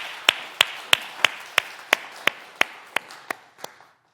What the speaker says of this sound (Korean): 그 하나님 앞에 영광의 박수 한번 올려드리겠습니다.